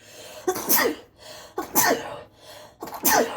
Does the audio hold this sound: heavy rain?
no